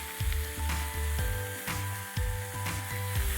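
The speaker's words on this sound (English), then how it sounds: "we'll add in the sweet peppers and just pull out the seeds and just stir this roughly like so" Mushrooms, onions and sweet peppers being stirred roughly in a hot pan, with steady sizzling frying and a series of regular scraping, knocking stirs, close and fairly loud, no talk.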